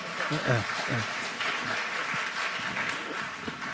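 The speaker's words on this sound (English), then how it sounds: "give a round of applause to our panelist speakers" Scattered applause at a global finance forum for the panel speakers, moderate and diffuse, with voices speaking over the clapping.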